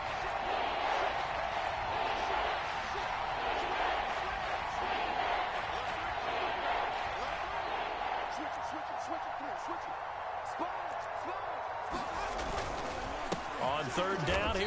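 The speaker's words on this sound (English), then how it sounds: "this red zone is where the Seahawk crowd really makes it tough for an offense to communicate" Stadium crowd noise from the Seattle Seahawks home crowd in the football game Madden 22 surges as a steady roar through a red-zone third down, with a commentator talking over it throughout.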